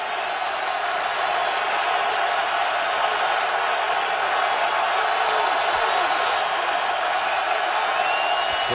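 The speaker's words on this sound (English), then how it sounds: "he'll be dealing with the Raven defense and the noise of this home crowd" Loud home stadium crowd roaring at an NFL game between the Ravens and Bengals in Baltimore, a dense continuous wash of cheering and murmur that stays even throughout.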